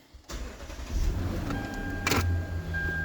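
A Lexus LS460 sedan with torque converter shudder starts up from inside the cabin: a click, a short cranking whir, then the engine catching into a steady low idle with a faint electronic tone.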